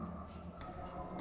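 Chalk or marker strokes writing a chemistry question on a classroom board, a soft continuous scratching lasting just over a second, close and fairly quiet, with no speech over it.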